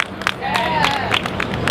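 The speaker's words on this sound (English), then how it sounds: "Give him a round of applause, Harlem." A crowd at a Juneteenth flag raising in Harlem claps in scattered bursts while someone speaks over the applause.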